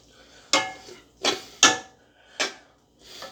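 Metal utensil scraping and clanking in a cast iron skillet as food is mixed, five sharp nearby strokes spaced roughly half a second to a second apart with quiet gaps between.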